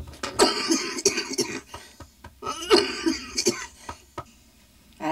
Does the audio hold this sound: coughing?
yes